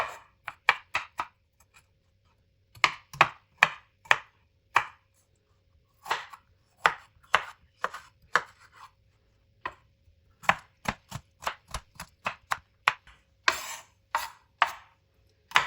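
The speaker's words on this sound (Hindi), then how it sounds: "अब इसको भी इस तरह काट लेंगे और फिर इस तरह इसके छोटे पीस काट देंगे" A knife chops potato into small pieces on a cutting board, with bursts of sharp, close taps in quick runs separated by pauses.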